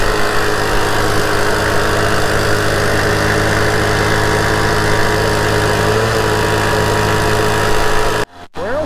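A leaf blower runs steadily and loudly close by during a snowy brush burn with paper towels and dry firewood, holding a constant drone before cutting off abruptly near the end.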